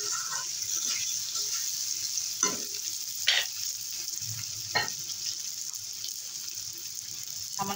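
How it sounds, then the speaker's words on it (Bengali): Pointed gourd and potatoes with sun-dried lentil dumplings sizzling in a pan while a spatula stirs and scrapes through them, steady frying hiss with several distinct scraping strokes, close and alone without speech. "ভালো করে একটু নেড়ে চেড়ে কষে নেব।"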